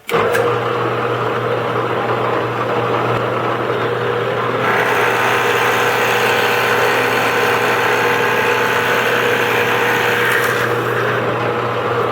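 A power drill bores holes into the wooden jaws of hand screw clamps in a workshop: a loud, steady motor whine runs for about twelve seconds, its texture shifting partway through as the bit bites, with no talking.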